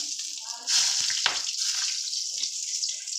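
Bay leaf and dried red chili drop into hot oil, setting off a loud hissing sizzle that holds steady close by, with a brief clatter of the pan.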